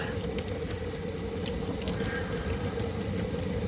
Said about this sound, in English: So now we're cleaning the front of the blade.